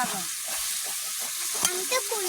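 Pumpkin pieces fry in a wok, giving a steady close sizzle with scraping stirs and a couple of sharp metallic taps near the end.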